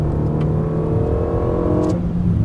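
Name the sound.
car accelerating out of a corner on Dreux circuit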